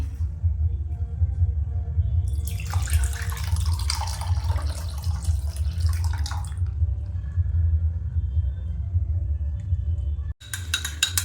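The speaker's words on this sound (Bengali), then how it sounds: "দশ থেকে 15 মিনিট পর দুধটা একটি বলে ঢেলে নিলাম।" Lukewarm boiled milk for homemade curd is poured into a bowl, a close splashing trickle lasting about four seconds over a low steady hum.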